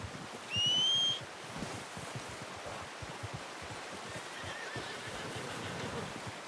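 A horse whinnies once, briefly and sharply, in Red Dead Redemption 2, over a steady outdoor background of shuffling hoof-like thuds.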